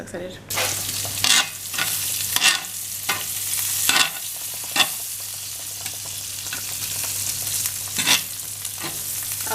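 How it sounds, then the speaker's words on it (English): Garlic and herbs sizzle steadily in a hot pan before a steak goes in, with a constant frying hiss broken by periodic scraping stirs at a close, moderate level and no talk. "saute my garlic and herbs before I actually put the steak on there"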